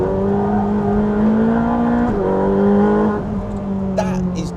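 A Ferrari 458 Speciale in third gear takes a fast 85–90 mph corner on a race track, its engine a loud, steady high-revving drone heard from on board that dips briefly in pitch midway before settling again.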